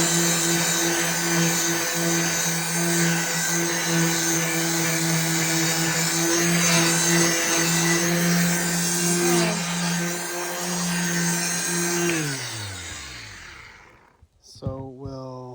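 A power sander runs steadily on a cured epoxy countertop for an entertainment center, a loud, continuous whine with a constant tone, then winds down near the end into a brief clatter.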